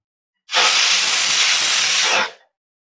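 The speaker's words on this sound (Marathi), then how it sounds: "एक शिट्टी झालेली आहे।" Pressure cooker whistle releasing steam while cooking dal, a single loud, sharp hiss that bursts in abruptly, holds steady for nearly two seconds, then tapers off into silence.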